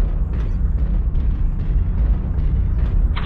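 A destroyed Archer mech explodes in MechWarrior Online, giving a loud, deep, rumbling boom that keeps roaring for the whole stretch.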